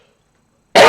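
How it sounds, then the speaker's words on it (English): A single sharp cough bursts out close and loud after a moment of silence, cutting off abruptly at the end. "I'm going to cough."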